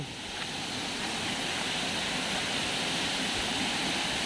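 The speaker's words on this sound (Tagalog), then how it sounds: "Kitang-kita nyo ang agos dito, ayan oh." Water rushes steadily at Iringan Falls in Pagbilao, Quezon, a loud, close, unbroken roar of flowing water.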